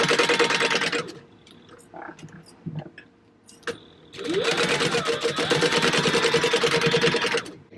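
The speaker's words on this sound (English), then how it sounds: "Now I'm going to take this to the sewing machine and I'm going to base stitch these two together." A sewing machine whirs in a rapid run, base stitching two pieces of fabric with a 4-stitch length, pauses amid handling clicks and rustles, then starts again for a longer steady burst.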